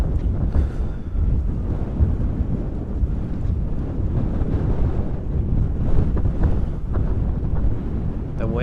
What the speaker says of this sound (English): The wind is blowing my fucking hands.